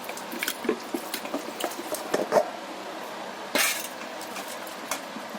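Washed pieces of country chicken (desi murgi) tip into a metal pressure cooker: a scatter of light clinks and wet knocks, then a brief louder wet slide and clatter, close by with no talking.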